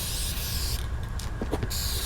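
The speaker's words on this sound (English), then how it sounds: "Let's go ahead and make sure we get it all sprayed down first" An aerosol spray paint can hisses steadily while coating Warhammer 40k Death Company miniatures, a continuous close hiss with brief breaks and a few small handling clicks.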